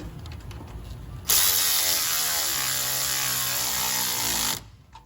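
A hand ratchet turns a 10mm swivel socket on a Chrysler 300 5.7 A/C condenser, giving a dense, continuous clicking whir for about three seconds between quieter shop noise.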